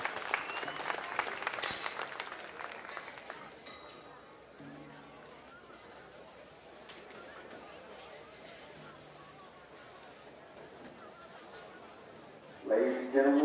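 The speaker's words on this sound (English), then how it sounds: "give your round of applause to all these exhibitors as they exit the ring" An indoor crowd at a junior gilt livestock show claps for exhibitors leaving the ring, with brief applause at the start fading into a low murmur of chatter and movement, then a short burst of noise at the end.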